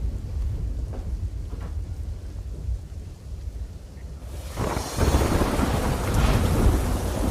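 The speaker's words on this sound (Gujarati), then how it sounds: "વલસાડના ધરમપુરમાં ધોધમાર વરસાદ ખાબક્યો" Steady monsoon rain hisses throughout with low thunder rumbling, growing louder and denser in the second half as a heavier downpour sets in, in Dharampur, Valsad, Gujarat.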